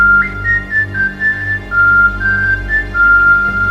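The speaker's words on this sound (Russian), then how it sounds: "Это 3 легких способа свистеть с помощью языка." Someone whistles with the tongue, a clear, loud run of steady notes stepping up and down, close and alone.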